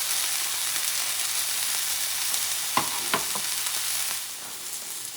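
Yak tenderloin frying in a pan, giving a steady, close sizzle throughout with a few brief scraping clicks and no talking.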